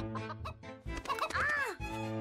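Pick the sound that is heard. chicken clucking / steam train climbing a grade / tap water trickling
chicken clucking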